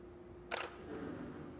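A single crisp camera shutter firing with a Canon Speedlite 470EX-AI flash, one short, close, sharp click in an otherwise quiet room.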